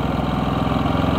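A Honda inverter generator engine running at a steady, loud, close drone with even pulsing and no change over the short stretch, heard just before it is switched off.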